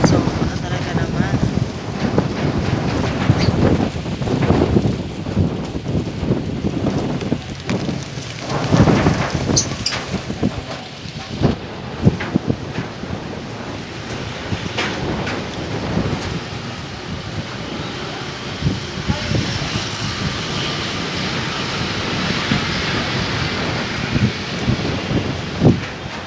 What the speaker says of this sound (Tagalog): Ang tindi ng hangin talaga naman nanggagaling sa ating bandang karagatan